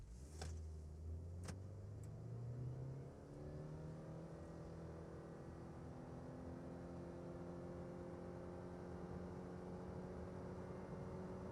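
A Subaru Crosstrek e-BOXER in sport mode accelerates from 0 to 100 km/h, its engine note rising steadily through gear changes into a sustained, droning whine, heard from inside the cabin, with a few clicks near the start.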